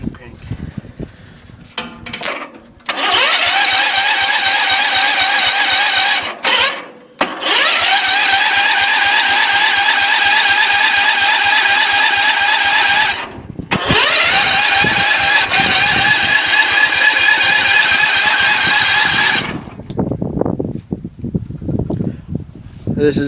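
A rebuilt tractor engine cranking with a rapid rhythmic starter chug, then catching and revving with a loud, steady harmonic whine that cuts out and restarts a few times, with people talking between attempts.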